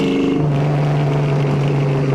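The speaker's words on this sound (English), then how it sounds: "an aggressive pull so you guys can hear that exhaust one more time" A 1966 Ford Mustang Fastback pulls hard under aggressive acceleration, its exhaust a loud, close, steady droning roar with a strong low tone held through a gear, with no talking.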